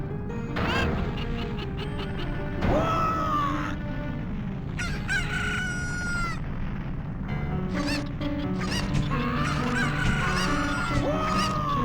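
Cuccos from a Zelda game cluck and squawk in a loud, busy flock, with repeated rooster-like crowing calls rising over a constant layer of game music.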